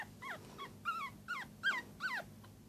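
Five-day-old Yorkie-poo puppy fussing with a run of thin, high whimpers and squeaks, six or so short cries in an uneven rhythm, faint and close with no talking.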